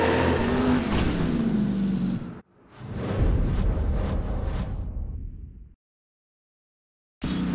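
A car in the video game Driver: San Francisco speeds away, its engine roaring loud and close, then a second revving burst that fades out before an abrupt silence and a brief return of sound.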